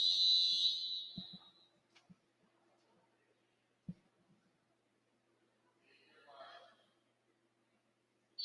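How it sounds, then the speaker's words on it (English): A whistle at a swim meet starts the first event: a loud, shrill blast at the very start that fades within about a second. Faint thuds and a softer, breathy sound come later in an otherwise quiet space. "that was a whistle to start the first event"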